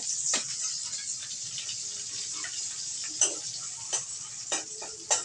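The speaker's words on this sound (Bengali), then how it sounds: "এবার চিংড়ি শুটকিগুলো একটু ভেজে নেব" Dried shrimp frying in a pan give a steady, close hiss of sizzling oil, broken by a few sharp clicks of a utensil against the pan, with no talking.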